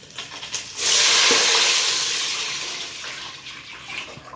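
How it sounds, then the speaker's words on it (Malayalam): Water poured into a beef dum biryani pot, Kerala style, over ghee, ground spices and leaves: a loud gushing burst begins abruptly and fades into a sustained hiss, with no talking. "വെള്ളം ഒഴിച്ചു."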